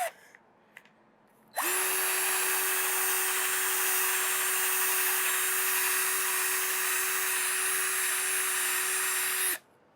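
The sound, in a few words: sanding a padauk wood bowl with 80 grit paper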